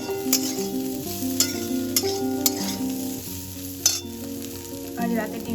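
Mixed vegetables sizzle steadily in a pan with Maggi masala added, and occasional sharp stirring clatters punctuate the sizzle. Soft background music plays underneath.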